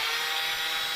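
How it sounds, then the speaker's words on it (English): A power drill bores steadily with its bit for a brief one-second stretch, a loud, continuous high whirring grind heard close up with no talking. "If your drill bit's flexing backward and forward, it will snap when they go in"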